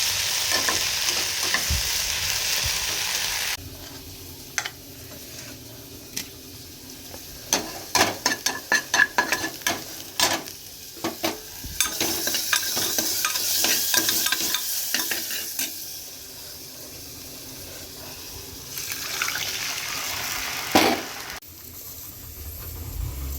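Chachchari being stir-fried in a pan, a continuous sizzle broken by repeated sharp spatula scrapes and clacks against the metal, close by, with the frying hiss swelling and easing over time.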